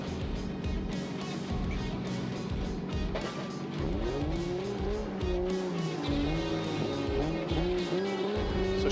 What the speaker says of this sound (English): Show us that her car is ready to perform and battle it out against Watanabe.